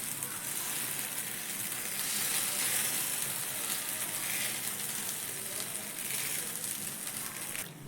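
Suji and poha batter sizzles steadily in a hot pan as it is spread thin with the back of a ladle, giving an even, bright hiss with no talk.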